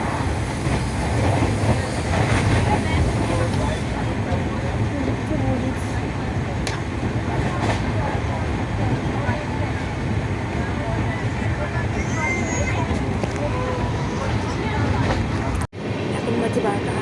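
Steady, loud train running on the rails, a continuous rumble with faint rhythmic clatter heard from inside the carriage, then cut off abruptly near the end.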